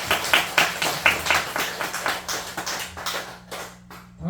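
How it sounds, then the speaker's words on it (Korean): A church congregation claps in thanks after a Parents' Day sermon, a rhythmic, fairly close round of hand claps that holds steady and then thins out and stops, with no talk over it. "감사의 박수 하겠습니다."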